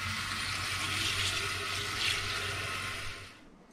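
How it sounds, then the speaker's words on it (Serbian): Running cold water pours steadily over rice being rinsed, a continuous close splashing rush with no talk, fading out at the end. "malo ću da ga properam u hladnoj vodi"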